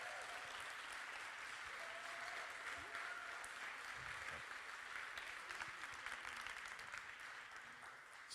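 Audience applause at the OER24 conference fills the room with a steady, even patter of many hands clapping, sustained for several seconds at a moderate, fairly distant level with no speech over it.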